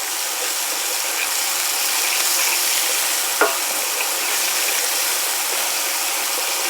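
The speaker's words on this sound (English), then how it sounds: "I'm only going to stir fry these for about, 30 seconds" Shallots stir-frying in a hot pan, a loud, even hiss of sizzling oil with one brief scrape of the utensil midway, close up and unbroken by talk.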